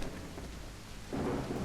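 Heavy rain and a thunderstorm in the horror game Call of the Elder Gods, a steady broadband downpour that swells into a louder rumbling surge of thunder near the end, with no voices.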